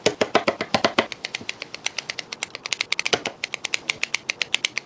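Quick series of sharp kitchen-scissor snips cutting linked hot dogs apart for pigs in a blanket, dozens of crisp close clicks in a fast steady rhythm, no talking.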